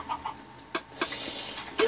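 Chicken clucking in the video game Minecraft, a few short separate clucks spread over a couple of seconds, moderately close with no talk.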